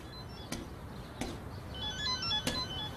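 A mobile phone ringtone plays quietly in a room, a short electronic melody of high tones with three sharp clicks or taps recurring at intervals beneath it.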